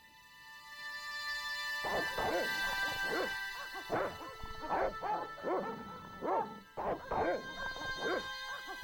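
Repeated dog barks and yips in the video game Broken Sword: Shadow of the Templars, a rapid series of about a dozen sharp barks over a steady musical background, fairly close and loud.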